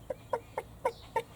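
A hunter imitates a bird with a hand-held call, giving five short evenly spaced clucks in a quick rhythm, close and fairly quiet with nothing else heard.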